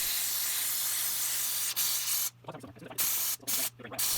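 A steam gun blasts hot steam into the frozen drain of a Kenmore freezer, giving a loud continuous hiss that breaks into several short bursts separated by quiet gaps, with faint sputtering between.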